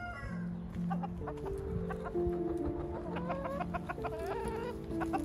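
Hens in a village animal corner at Repton cluck and chatter close by in overlapping, tuneful bursts throughout, with no voices over them.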